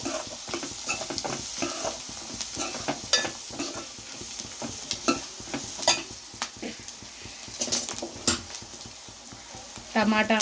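Turmeric stirred into food frying in a pan, giving a steady sizzle with repeated scraping and stirring strokes and occasional clinks of a utensil, fairly close and moderately loud.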